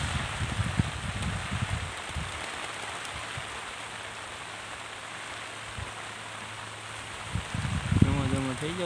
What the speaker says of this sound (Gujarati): જો વરસાદ ચાલુ છો છે અમારે ધીમો ધીમો